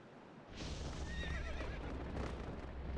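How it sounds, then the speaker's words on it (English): Epona, the horse in the Zelda: Twilight Princess video game, lets out a loud, shrill whinny lasting about two seconds over a rumbling game soundtrack background. "Don't you dare scare my horse."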